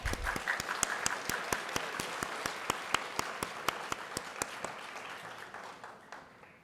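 Applause at a secondary school graduation ceremony, a crisp, even run of rapid hand claps from the hall audience that gradually fades toward the end.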